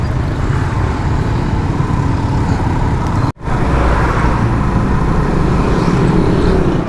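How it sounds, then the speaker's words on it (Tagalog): Road traffic in Magalang, Pampanga: a steady, loud wash of car and vehicle engine rumble and tire noise, briefly cut by a short dropout midway before the same dense roar resumes. "Traffic na naman dito."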